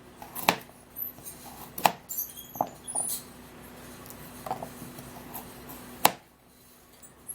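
A knife chops through a carrot on a board in sharp, separate strikes, a handful of crisp cuts spaced irregularly with quieter scraping between, close and clear with no talking.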